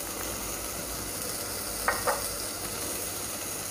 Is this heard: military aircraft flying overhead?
no